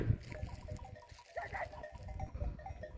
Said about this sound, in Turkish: aşağı taraftan bu güzel koyunlar geçiş yapıyor